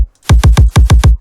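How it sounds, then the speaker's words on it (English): Six punchy AU5 dubstep kick drum hits fire in a quick, evenly spaced run, each a loud booming thump with a sharp attack, heard on its own. "This is the AU5 dubstep kick."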